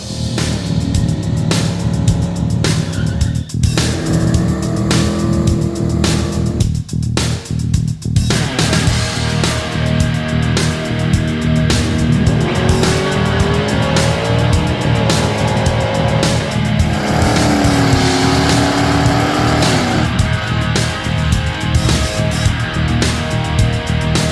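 A 1983 Yamaha IT175 vintage dirt bike engine runs loud and steady throughout, with revving that rises and falls alongside a continuous motor drone and no talk.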